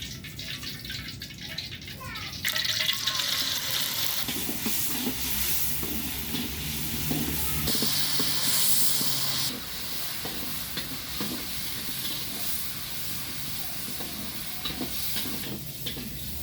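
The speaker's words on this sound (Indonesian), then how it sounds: "Saya mau goreng ikan terinya dulu ya." Steady sizzling and hissing of small anchovies frying in hot oil in a pan, with occasional stirring and clinks, continuous throughout at close range.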